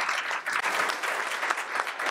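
A luncheon audience at an education and leadership event in Springfield claps for young people, a steady, dense wash of many hands close by that holds for about two seconds with no voices over it.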